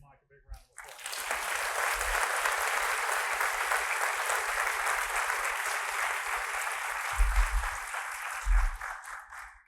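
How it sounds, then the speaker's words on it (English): Audience at a school convocation breaks into sustained applause, a dense wash of clapping lasting several seconds, with brief voices and thumps underneath near the end. "Let's give Mike a big round of applause."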